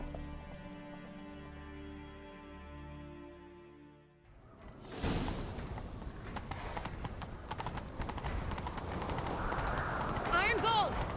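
Music fades out, then rapid hoofbeats of galloping horses pound close by with rushing movement, a whinny rising near the end, in a video game.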